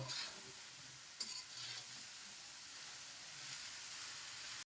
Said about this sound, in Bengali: আমি ধুন্দরটা এইভাবেই ভাজি করি